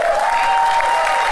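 A studio audience claps in a dense, steady burst of applause that fills the short moment without pause.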